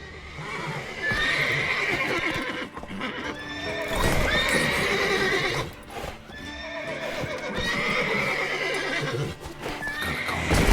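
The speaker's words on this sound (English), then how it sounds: "Gotta calm the horses before they wake the guards." Horses in The Witcher 3 neigh repeatedly in loud whinnies over steady clip-clopping hooves, close and continuous across the scene.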